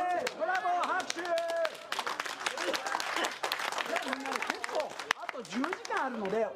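Audience clapping after a session of Gettaman exercises at a Momoiro Clover Z 24-hour TV event, a steady patter of applause with excited voices and speech over it.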